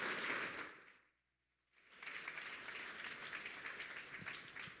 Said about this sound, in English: Everyone give him a warm round of applause.